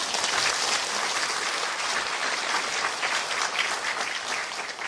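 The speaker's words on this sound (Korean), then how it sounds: "크게 박수로 맞이하겠습니다." Sustained, dense applause from a church audience at a denominational leadership installation and retirement ceremony, welcoming a pastor to the podium; loud and even throughout, with no speech over it.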